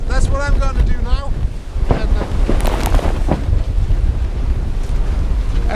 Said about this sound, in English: I have to tack heavily against the wind to maintain the course